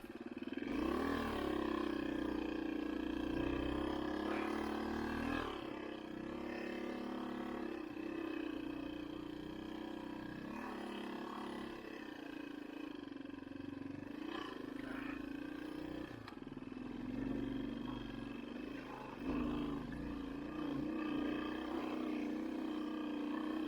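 A dual sport motorcycle fitted with saddlebags rides an old wagon trail through a mountain pass, its engine droning steadily and close, rising and falling with throttle changes throughout.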